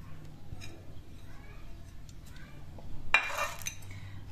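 Cinnamon, paprika, green pepper, cilantro and parsley are mixed with oil in a bowl for oven-roasted chicken, with faint clinks and one brief louder scrape of utensil against the bowl.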